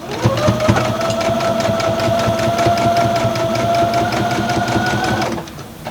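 A sewing machine stitching a quilt seam runs at a steady pace, a fast, even mechanical chatter with a sustained whine, loud and close. It stops abruptly near the end.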